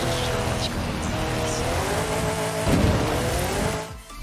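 A car in the racing game Forza Horizon 5 drives with a steady engine drone and a brief tire squeal midway, heard over faint background sound.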